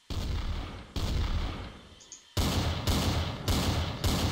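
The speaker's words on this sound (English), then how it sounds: "Oh my God, I'm being shot." Gunfire in the video game Trouble in Terrorist Town: loud, close shots in a rapid irregular sequence of about six blasts, each with a broad sharp attack and decaying tail, the later ones coming in quicker succession.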